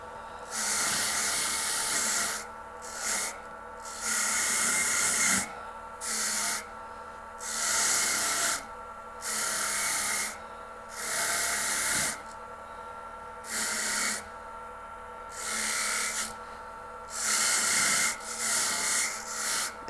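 A JOOLTOOL polishing wheel works bronze jewelry in repeated short passes, a close, hissing, rubbing grind that starts and stops every second or two with brief quiet gaps between.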